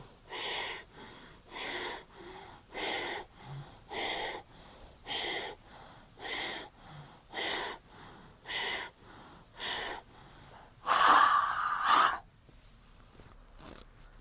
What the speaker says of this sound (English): So I am doing fast breaths now 10 times.